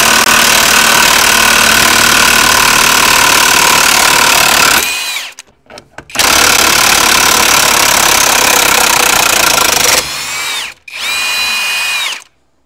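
Makita 40V cordless 3/4-inch square-drive D-handle impact wrench on speed 4 with a fully charged 4 Ah battery, hammering loudly in two long bursts then shorter spurts, with brief pauses and whining spin-down between runs.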